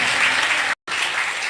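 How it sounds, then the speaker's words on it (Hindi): Church congregation applauding steadily with dense, even clapping, briefly broken by a sharp gap of silence before resuming at the same strength. "कुछ अच्छा ताली बजा रहे हैं"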